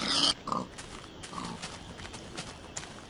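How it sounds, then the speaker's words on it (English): Pigs in the Minecraft video game give a few short, soft oinks and grunts, fairly faint and spread across a few seconds with no talking. "Wow, pig heaven."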